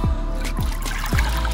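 Water poured into a bowl while preparing lamb offal skewers, a steady close trickle with a few splashy surges, no talk.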